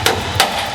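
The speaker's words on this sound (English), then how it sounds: "It's actually easier to hit it with a ball peen hammer, with a ball end of the hammer." Ball peen hammer striking a block of dry ice during racecar build work: three sharp, loud metallic-icy impacts spaced a few tenths of a second apart, close by with no talk.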